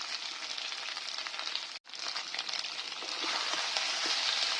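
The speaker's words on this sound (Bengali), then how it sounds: "আমি এবার পেঁয়াজ কুচিগুলো দিয়ে দিচ্ছি।" Chopped onions fry with ginger and garlic for chicken masala, giving a continuous close sizzle that cuts out briefly once, then crackles back more strongly, with no talking.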